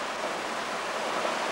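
A jungle waterfall where swallows nest, giving a steady, dense roar of falling water that holds evenly throughout, near and continuous with no voices.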